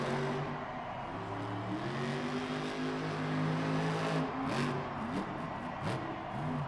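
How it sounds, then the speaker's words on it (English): An Earthshaker monster truck engine roars at full throttle during a Monster Jam arena run in Tucson, a loud, sustained mechanical drone whose pitch wavers and climbs, with crowd-like wash and brief bursts near the end. "Tristan England has this Earthshaker truck wide open, flying off that pod"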